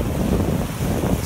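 Ocean waves wash against a seawall by a boat ramp and rocks, a steady, loud broadband rush with wind buffeting the microphone and no voices.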